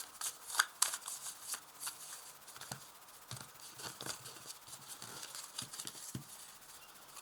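A tarot card deck being cut and shuffled, giving quick papery riffles and soft flicks in a close, moderately quiet series of bursts.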